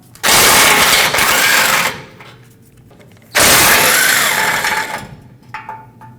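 17mm bolts on a 2005-2021 Nissan Frontier's front bumper impact absorber are driven out with a socket and extension, two loud, close power-tool bursts of about two seconds each separated by a quieter pause.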